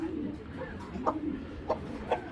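Three brief, soft calls come from a large breeding pair of pigeons, spaced irregularly, close but quiet against a faint murmuring background.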